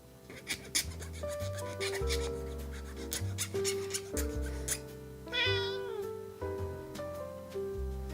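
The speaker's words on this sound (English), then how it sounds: "Hello, kitty cat." A pet cat meows several times over steady music with sustained tones, its calls rising clearly in the middle of the clip and standing out close and moderately loud.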